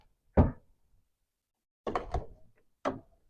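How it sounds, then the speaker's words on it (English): A Fiat 500 Convertible boot release unlatches with a dull thunk, followed by a quick series of mechanical clunks and a final knock, close and fairly quiet. "the final one is the boot release button"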